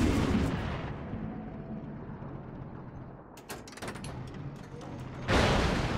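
Tank cannon firing in Far Cry 6, a heavy boom that opens the scene and rumbles away into a dull tail. A second sharp blast bursts in near the end, loud and close.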